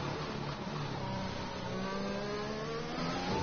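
A Formula 1 car in an F1 racing video game, set at Bahrain, pulls out of the pits. Its engine gives a steady, fairly loud mechanical drone with a whine that climbs in pitch, and there is no clear talk over it.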